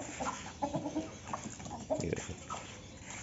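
Aseel chicks and hens cluck and peep softly nearby in a series of short, irregular calls over a low background hum.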